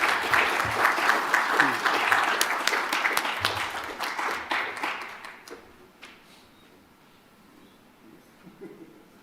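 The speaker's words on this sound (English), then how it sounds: "would you please, with your warm applause, welcome to the stage Kazu Toyoda-san" Warm audience applause at a policy forum welcoming Kazu Toyoda to the stage, loud at first with dense clapping, then fading away over several seconds into near quiet.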